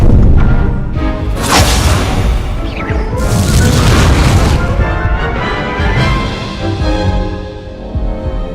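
The Incendio fire spell cast in the Hogwarts Legacy video game, loud booming fiery blasts with whooshing bursts rolling one into another over a dense, continuous game soundscape.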